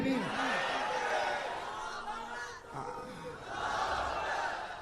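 A large crowd at a religious gathering in Ahmedabad roars a takbir slogan together in loud overlapping shouts, swelling, dipping briefly, then rising again.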